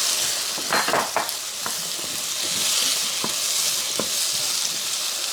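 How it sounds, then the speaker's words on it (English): Garlic, ginger, carrots, scallion, onion and two kinds of sweet pepper sauté in a pan: a loud, close sizzle runs throughout, broken by several sharp stirring scrapes and light clinks. "Saute this up for a little bit."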